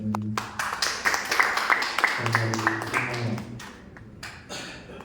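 An audience at a university young motivator competition gives a round of applause, many hands clapping fairly loudly for a few seconds before tapering off into scattered claps, with some low voices around it.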